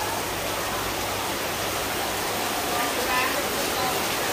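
Rain falling as a steady, loud hiss of broadband noise that stays even and unbroken from start to finish, with no clear voices.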